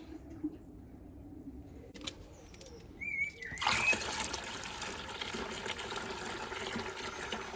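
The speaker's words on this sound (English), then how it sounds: "I need some more water in there." Water pours into a container of molasses and ash fertilizer mix with a steady splashing trickle that starts partway through, after a few quiet handling clinks.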